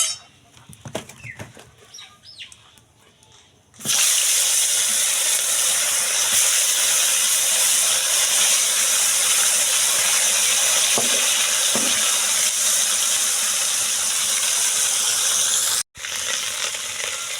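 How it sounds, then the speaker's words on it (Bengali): Fish poured into hot oil in a wok, giving a sudden loud hiss that settles into a steady, intense sizzle, cut by a brief dropout near the end. Softer kitchen clatter comes before it. "তো তেলটা মনে হয় ভালোভাবে তেতে গেছে, তো এবার মাছগুলোকে আমি ঢেলে দেবো"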